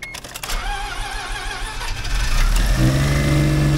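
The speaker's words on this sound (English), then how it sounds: "Let's go ahead and fire this thing up and test some parts." A 1996 Mazda FD RX-7 at a wrecking yard turns over on the starter and catches, its rotary engine rising into a loud, close, steady idle with no talking.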